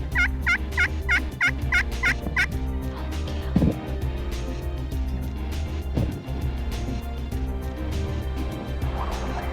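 Young male Merriam's turkey gobbling near decoys, a rapid run of about six sharp calls in the first two seconds, close and loud, then a steady low rumble of outdoor background.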